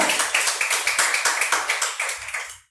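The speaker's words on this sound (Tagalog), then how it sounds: "Palakpakan natin ang Diyos." A church congregation claps for God in a steady rhythmic beat, about a dozen sharp unison claps, close and loud, that stop abruptly at the end.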